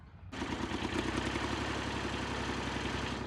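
A tractor engine starts up in a pomegranate orchard and settles into a steady, loud diesel idle with an even low throb. It runs alone close by, with no talking.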